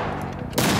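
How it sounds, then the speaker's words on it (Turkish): Gunfire erupts in a palace raid scene from a historical drama, a dense burst of loud, rapid shots following a short stretch of rumbling background noise. "Silah seslerini duymuyor musun?"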